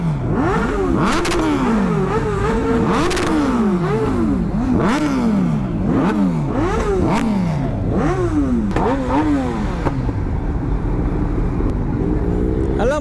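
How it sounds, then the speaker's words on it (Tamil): A motorbike revs repeatedly at a college event, the engine climbing and dropping in pitch in a rapid series of loud, close throttle blips with a steady rumble beneath. "நல்லா முறுக்கு ப்ரோ."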